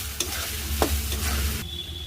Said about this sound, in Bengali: এবার একটু নাড়িয়ে দিই আলুগুলোকে